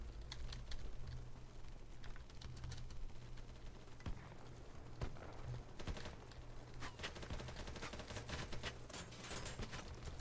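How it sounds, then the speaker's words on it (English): Gunfire in the video game BattleBit Remastered during a chaotic 127 versus 127 match, with dense, sharp shots and bursts of automatic fire crackling continuously at varying distances over ten seconds. "Getting shot over here."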